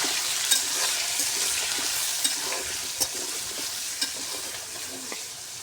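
Potatoes frying in hot oil with salt and turmeric, giving a steady close sizzle with occasional light stirring taps against the pan.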